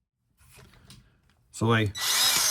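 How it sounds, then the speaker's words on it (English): A power drill fitted with a Forstner bit bores a small hole for a piezo saddle pickup on a cigar box guitar, whirring up loud and close with a rising whine right after a man's brief speech. "drill my little hole here"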